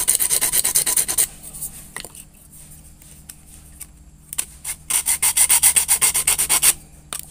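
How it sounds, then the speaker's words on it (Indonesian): PVC pipe being rubbed and rasped to match the curve of another pipe, with rhythmic back-and-forth scraping strokes in bursts, a quieter gap in the middle, then a fast run of strokes. "Kira-kira nanti kalau ini digosok sampai dia mengikuti ini lengkungan pipa yang ini di bawahnya ya."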